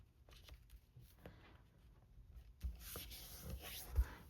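Bone folder pressed and rubbed along a scored fold in cardstock for a standard 5.5 by 8.5 inch card: soft, close scraping strokes, building into a couple of brighter swipes near the end.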